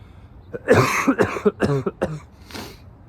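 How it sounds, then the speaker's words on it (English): Several harsh, close coughs in quick succession with some throat clearing, followed by a quieter final cough. "All of that philosophical thinking made me have to cough."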